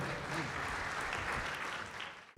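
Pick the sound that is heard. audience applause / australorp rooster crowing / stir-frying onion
audience applause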